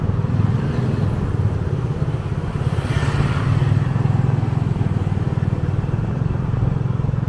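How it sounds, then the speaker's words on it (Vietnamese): Motorbikes and cars drive along a smooth residential street in Biên Hòa, a steady, loud wash of engine noise with one vehicle revving and passing close near the middle. "Xe máy tha hồ vặn ga, xe hơi tha hồ mà đạp."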